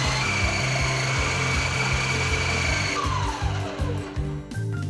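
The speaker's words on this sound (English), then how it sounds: "add in the cut papaya pieces, raw papaya pieces, and then run it in my grater" An electric grater processes raw papaya pieces, a loud, close, continuous motor whir with a rhythmic chopping churn, its pitch and load shifting near the end.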